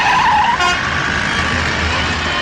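Car being driven in a comedy scene, a loud engine drone with a high horn-like toot at the start that fades, followed by a steady rumbling motor.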